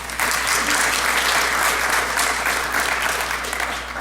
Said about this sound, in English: please give a warm welcome applause for our speaker today, Jake Kambic.